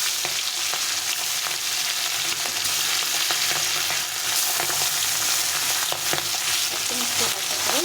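Hilsa fish pieces frying in very hot oil, a loud, continuous crackling sizzle with scattered sharper pops and occasional stirring, no talking.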